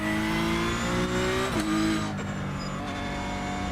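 A NASCAR-style race car engine in iRacing drones steadily with harmonic whine, the pitch dipping briefly then holding at speed.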